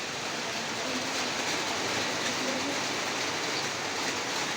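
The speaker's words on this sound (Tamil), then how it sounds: "பார்த்தீங்கன்னா நல்லா மழை பெய்யுது ஃப்ரெண்ட்ஸ்" Heavy rain pours steadily in hill-station Kodaikanal, a dense unbroken hiss that stays loud and even from start to finish with no voices.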